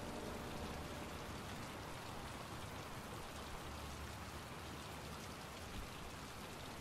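Steady, dense rain falls throughout a scene in the video game Heavy Rain, a faint, even wash of drops on surfaces with no voices.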